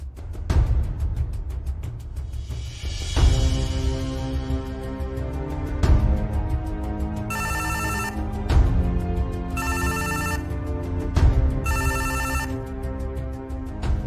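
A telephone rings repeatedly while a call is placed to a dead hospital patient's relatives, the ring bursts recurring in a steady rhythm over a constant low background hum, fairly loud and close, with no voices.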